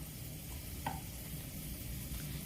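Chicken pieces added to a pan of golden brown onions for Afghani chicken, a soft steady sizzle with one faint scrape of stirring, quiet and with no voices.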